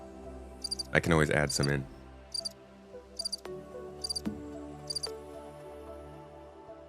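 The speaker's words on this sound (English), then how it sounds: "Can you guys hear the crickets in the background?" Crickets chirp in short, regular bursts in the background of a quiet indoor room, faint but clear, with someone speaking briefly over them.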